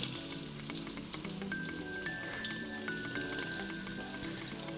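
Thinly sliced onions fry steadily in a pressure cooker for chicken biriyani, a dense, even sizzle that stays loud and close throughout, with a faint thin whine running beneath it.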